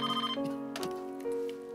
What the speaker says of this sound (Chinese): 哎呦，哎，弟有电话